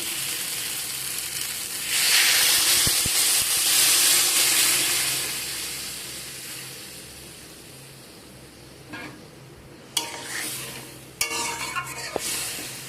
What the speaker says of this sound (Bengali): এখন এর মধ্যে আমি দিয়ে দেবো জল।